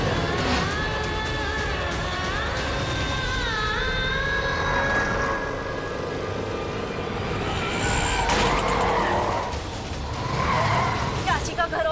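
Tires squeal in long rising tones as a car swerves through a sharp turn during a tense getaway, with talk over the engine noise and a further skid burst near the end.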